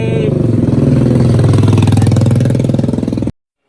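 A Honda Scoopy scooter with a carburetor setup and 58.5 stroke-up engine revs loudly and close, a continuous rough buzzing drone held for about three seconds before cutting off abruptly.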